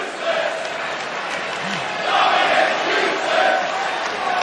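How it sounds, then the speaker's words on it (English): A wrestling arena crowd in Edmonton roars and jeers at a WWE Raw event, a continuous loud mass of voices rising in waves without clear pauses. "Crowd in Edmonton letting us know how they feel about Dominic"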